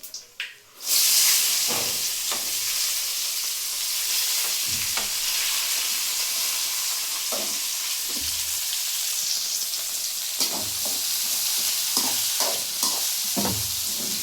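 Onions frying in a pan for a home-cooked Sunday dish, a steady broadband sizzle running throughout, broken by repeated scraping stirs of a spatula at irregular intervals.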